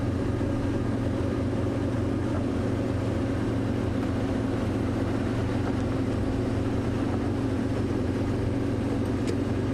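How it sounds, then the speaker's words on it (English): A safari vehicle's engine runs in low range at even revs on an early-morning game drive while approaching elephants, a constant low rumbling drone, close and steady, with no talk. "always pop your car into low range, nice even revs when you're approaching Ellies."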